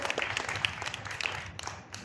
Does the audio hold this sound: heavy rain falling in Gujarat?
no